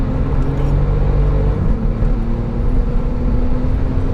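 A COBB Stage 2 tuned Porsche 997 Turbo being driven on a track, with a loud, steady engine drone and road rumble held throughout, heard from inside the car.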